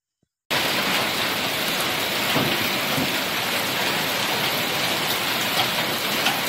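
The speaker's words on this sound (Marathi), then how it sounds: "मनमाडला मोठा जर पाऊस" Heavy unseasonal rain pours down in Manmad, a loud, steady, dense hiss that starts abruptly and continues without a break.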